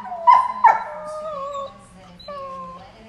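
Standard poodles let out high-pitched puppy howls and whines: two sharp yelps open into wavering, drawn-out tones that rise and fall at close range.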